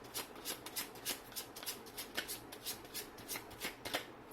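Tarot cards are shuffled by hand in a rapid, rhythmic run of close riffling flutters, steady and fairly quiet, with no talking.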